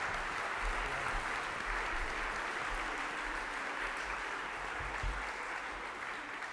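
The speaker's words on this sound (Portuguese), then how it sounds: "eu agradecia uma salva de palmas também para o João Paulo Sacadura" An audience applauds João Paulo Sacadura at a debate event, a continuous, even spatter of clapping heard at a distance and fairly faint, with a low rumble beneath it.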